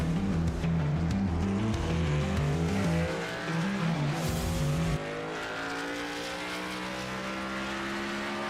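Race cars circle a Daytona track in a racing video game, engines droning and shifting pitch with brief tire squeals, loud and steady throughout.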